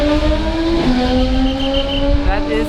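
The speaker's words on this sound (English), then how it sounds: "that is a GT3 RS in case you guys are wondering" A Porsche GT3 RS race car passes on a circuit during a race weekend, its loud, high engine note holding steady and then dropping in pitch as it goes by.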